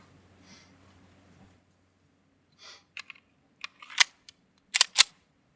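Pistol shots at an outdoor shooting range in Utah: after a faint quiet stretch, several sharp cracks come in short bursts, loudest near the end, with no speech.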